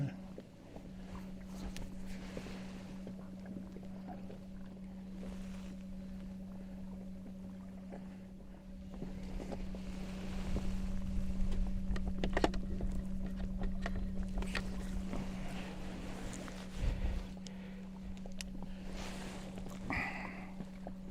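A boat motor at about 25% power runs as a faint, steady low drone on calm open water, with light wind and occasional soft knocks around it.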